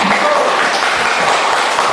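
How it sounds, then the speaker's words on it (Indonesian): Classroom applause as students clap for a classmate's answer, a loud, continuous wash of many small hands clapping close by, with children's voices blended in. "Tepuk tangan nak"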